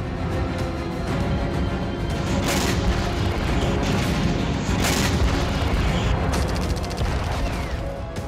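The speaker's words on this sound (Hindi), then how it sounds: "यूएस वायुसेना के हमलों से इराक के कई इलाके दहल उठे" Air strikes by US forces on sites in Iraq, heard as a dense, continuous roar of heavy blasts and rumbling booms with a few sharper cracks, loud and sustained throughout with no voices.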